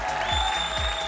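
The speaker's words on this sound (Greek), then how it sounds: "Δυνατό χειροκρότημα στον νικητή μας." A game-show studio audience applauds a winner on Cypriot TV's ΤΟ ΠΙΟ ΜΕΓΑΛΟ ΠΑΖΑΡΙ, a short, dense burst of clapping at steady volume with a background music tone beneath.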